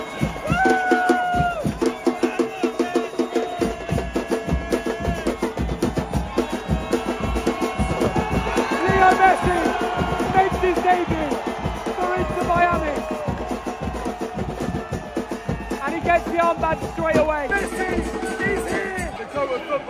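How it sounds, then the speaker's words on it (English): Stadium crowd cheering loudly and continuously as Lionel Messi enters the field during a Miami soccer match, a dense roar of voices with music-like tones layered over the din throughout. "Listen to the crowd."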